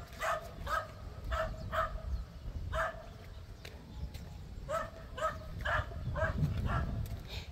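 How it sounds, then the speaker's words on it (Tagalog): A dog barks repeatedly in short bursts at a distance outdoors on a vegetable farm with okra and chili plants, the yaps spaced irregularly over a steady low rumble of wind or background noise. "May aso doon."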